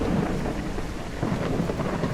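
Loud, unbroken in-game thunderstorm: dense rain roar with deep rumbling thunder underneath, steady throughout and close.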